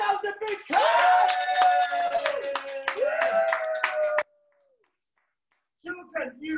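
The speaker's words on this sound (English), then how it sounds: "Give yourselves a big clap!" Children clap together during an online Zoom camp session, a busy ragged patter of hands over sustained music that cuts off into silence, followed by voices talking.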